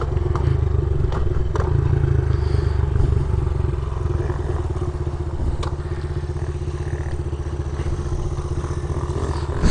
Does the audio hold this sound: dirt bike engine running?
yes